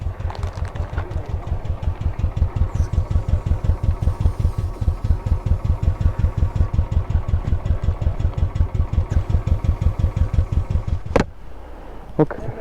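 A Royal Enfield motorcycle engine idles steadily nearby with a fast, even pulsing throb, then cuts out abruptly near the end, followed by a couple of faint clicks.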